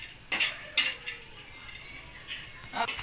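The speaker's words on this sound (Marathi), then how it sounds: "मी आता खोबरं टाकले भाजायला अजून खोबर भाजून घेते छान असं" Coconut dry-roasting in a pan, with a few sharp spatula scrapes and metallic clinks against the pan over a faint background hiss, close by.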